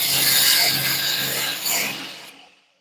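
A hand file rasps across a knife blade during knife making: one loud, close, continuous abrasive stroke of about two seconds that then fades out.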